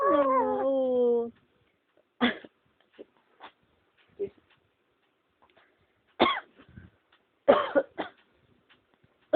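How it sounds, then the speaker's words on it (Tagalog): A few short, dry coughs spaced apart, close and fairly loud, after a brief high-pitched vocal sound at the start, with quiet pauses between. "Ubo si mami."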